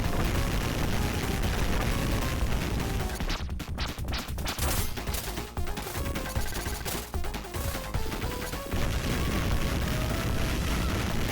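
A video game explosion from a Sonic-style boss fight: loud, dense crackling bursts and crashes erupt partway through over continuous game audio, with a burst of rapid blasts lasting several seconds before settling back.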